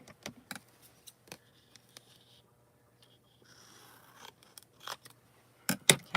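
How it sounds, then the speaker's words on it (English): Scissors snip through paper while trimming a butterfly shape to size for foiling in a card-making craft session, giving a string of sharp, close cuts with short pauses and a few louder snips near the end. "So I need to cut this to size."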